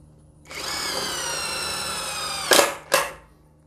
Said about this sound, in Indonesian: Dan kita akan coba impact driver molar 20 volt.